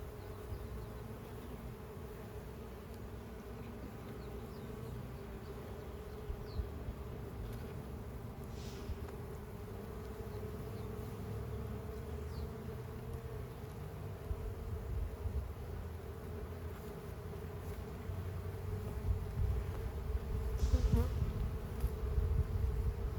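Honey bees hum around an open hive during a spring inspection, a constant low drone close by with occasional brighter passes of single bees, growing slightly louder toward the end.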